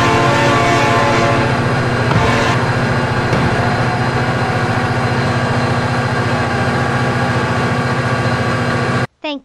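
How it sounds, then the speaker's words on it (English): Train horn blaring loud and steady over the rumble of a passing train in the BeamNG.Drive driving game, continuous for about nine seconds before cutting off abruptly. "Oh my god, the train is coming."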